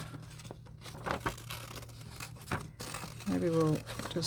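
Scissors snipping paper for a vintage Christmas collage, a few close crisp cuts and paper crinkles mixed with someone talking and a steady low hum.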